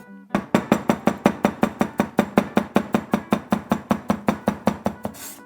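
A knife chops vegetables rapidly and evenly on a cutting board, about four crisp strikes per second, close and loud, with no talking.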